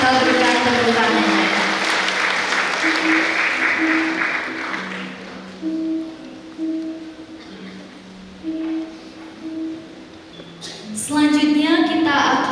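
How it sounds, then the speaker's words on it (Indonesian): A church congregation at a Sunday service clapping, loud at first and gradually fading, followed by soft organ-like music and someone beginning to speak. "Jemaat Tuhan, kita berikan tepuk tangan."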